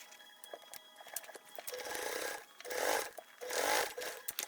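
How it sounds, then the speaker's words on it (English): A sewing machine top stitches along the top edge of a fabric bag in short bursts of whirring stitches, quiet at first and then running in two longer, louder runs near the end. "Okay, so we are just top stitching that top edge."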